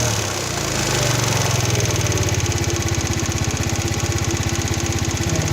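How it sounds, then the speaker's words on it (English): A 4-stroke Chinese 139QMB GY6 scooter engine runs close by with a steady, fast-pulsing putter that swells into revs and holds high, loud and alone with no talk. "I'm going to rev it a couple of times."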